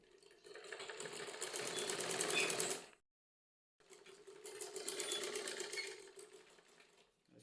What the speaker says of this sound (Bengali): তারপরে ঠিক এই ধার দিয়ে সেলাই করে নেব